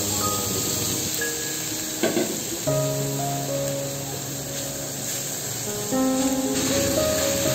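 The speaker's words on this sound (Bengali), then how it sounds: "মশলাগুলো দিয়েই একসাথে করে আমি সবজিটাকে ভেজে নেব।" Cabbage and broccoli fry in a pan with chili powder and salt, a steady hissing sizzle running throughout beneath background music.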